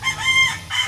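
Free-range chickens on a small home vegetable plot, with a rooster's loud, close crow rising and falling over roughly a second and some clucking around it.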